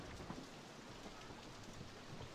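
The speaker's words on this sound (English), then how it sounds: "no one's riding this because it's raining" Rain falling in the RollerCoaster Tycoon game, a soft, continuous hiss of steady rainfall with faint low rumbles, alone and quiet.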